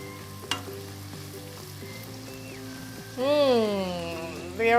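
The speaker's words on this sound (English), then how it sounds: "And we're going to give this a good mix." Curry powder and dried thyme being stirred into Nigerian-style fried rice in a hot pan, a low steady sizzle with faint scraping, joined in the latter half by a loud melodic voice or tone over the frying.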